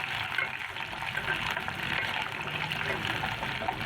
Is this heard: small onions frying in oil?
yes